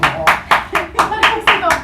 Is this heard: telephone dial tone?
no